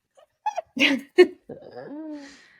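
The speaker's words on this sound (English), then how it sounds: "He just barks to bark." A pet dog makes a few short bark-like yelps and whimpering vocal sounds, close and fairly loud, in a lively indoor setting between bursts of chatter.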